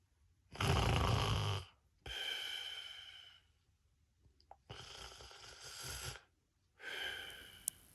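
Grandad snoring loudly through a nap, four long rasping breaths with short quiet gaps between them, close and alone.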